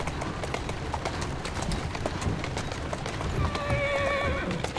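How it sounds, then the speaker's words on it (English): Horse hooves clip-clopping at a steady run with a whinny near the end in the video game Assassin's Creed Syndicate, close and continuous over a busy background. "Who's a good horse? You are."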